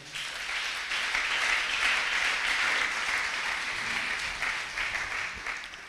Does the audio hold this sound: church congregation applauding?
yes